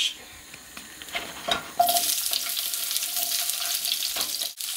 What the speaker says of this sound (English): carrots, red pepper and snake beans are in the frying pan and you can hear it's making a lot of noise